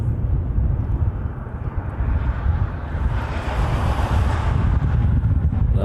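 A jet airliner taxis at a Hawaii airport, its steady low engine rumble continuous and moderately loud throughout, with broadband roar swelling slightly midway and some wind buffeting the microphone.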